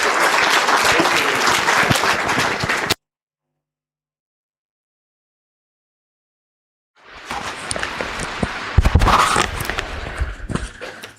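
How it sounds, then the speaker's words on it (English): Audience applause at an HR leadership summit in Pune: loud, dense clapping fills the first few seconds, then several seconds of silence, before another burst of close, crackling applause returns. "Please give a big round of applause for Suresh sir."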